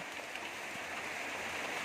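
Rain falls outdoors in a steady, even hiss of drops on surfaces, faint and continuous with no voices.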